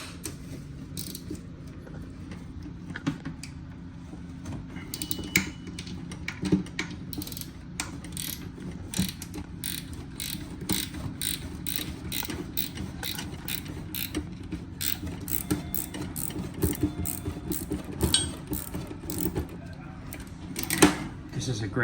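A Husky swivel service wrench ratchets in quick, uneven runs of light metallic clicks, worked on an A.O. Smith Cyclone BTH 120 condensing water heater, with a steady low hum and faint voices underneath.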